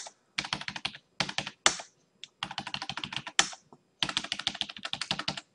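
Keys on a computer keyboard are tapped in quick bursts of clicks with short pauses between, close and crisp, while letters are typed into spreadsheet rows with no one speaking.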